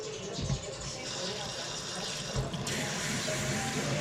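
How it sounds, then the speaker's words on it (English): Water pours into a pan for instant spicy miso ramen at home: a quiet, steady gushing fill with a couple of soft splashy bumps. "I'm just gonna put water in the pan."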